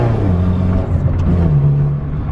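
A Honda EF car with a D15 engine drives along, its engine droning loud and close with a low hum that rises in pitch as it accelerates, plus some road rumble and no speech.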